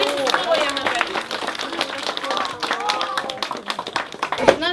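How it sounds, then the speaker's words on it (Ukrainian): Audience clapping at a children's New Year gift event at a youth creativity center, uneven applause beneath a hall full of children's and adults' chatter. "Оплески."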